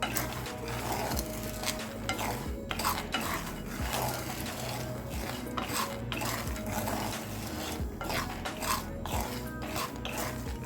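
Sweet corn kernels being roasted in salt in a pan, with rhythmic scraping and gritty rattling as they are stirred over and over, close and continuous throughout.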